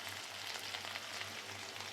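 Onions, green chillies and curry leaves sauté in a hot pan for a mushroom gravy, giving a steady, close crackling sizzle that runs evenly with no talk over it.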